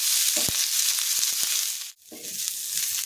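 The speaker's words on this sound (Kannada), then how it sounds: "ಎಣ್ಣೆ ಹಾಕಿ ಸ್ವಲ್ಪ ಫ್ರೈ ಮಾಡ್ಕೊಬೇಕು" Ginger pieces fry in a few spoonfuls of oil in a pan, a steady bright sizzle with a few stirring knocks and a brief pause midway, no voices.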